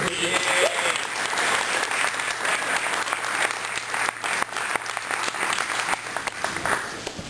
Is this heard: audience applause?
yes